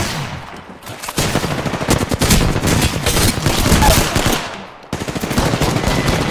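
Rapid automatic gunfire from a shooter video game rattles loud and close in sustained bursts, with a short break before the firing resumes.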